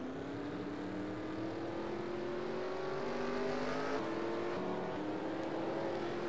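Race cars roar around Chicagoland Speedway in a racing video game as the 00 car runs down pit road. A steady, loud engine drone slowly climbs in pitch, with no break and no talking.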